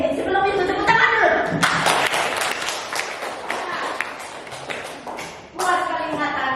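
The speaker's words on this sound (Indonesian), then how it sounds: "Sebelum itu tepuk tangan dulu." A class of ninth-grade students claps hands together in a classroom, brisk scattered clapping running for several seconds between bursts of voices.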